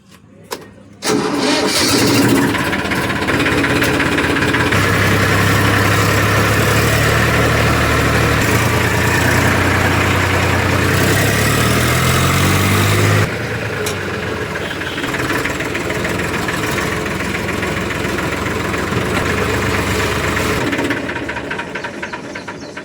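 A tractor engine cranks and catches, then settles into a loud, steady low idle with a deep throb that runs on for about twenty seconds, dropping slightly in level midway.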